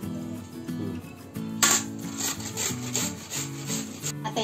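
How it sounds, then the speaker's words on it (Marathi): Raw papaya is grated by hand in close, rhythmic rasping strokes, each scrape repeating at an even pace with short pauses between, and no voices. "आता हे पपया आहे ना किसून घेते."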